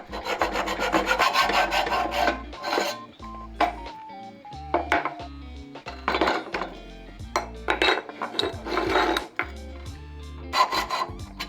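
Hand polishing of cast aluminum, a close scraping, rubbing sound in uneven strokes and bursts with brief pauses, loud and alone.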